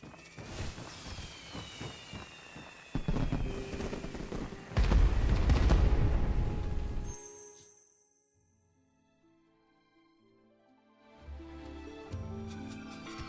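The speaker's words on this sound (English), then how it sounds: "I feel like the sound of the fireworks are a bit too loud." Fireworks in the video game Where Winds Meet: loud booming bursts and crackling pops over the first seven seconds, then a quiet lull with faint tones before more dense crackle returns near the end.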